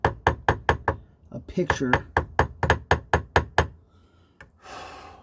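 Small hammer tapping a metal jewelry rivet to cross-hatch it, a rapid series of sharp close knocks in short bursts, with a brief spoken word between blows.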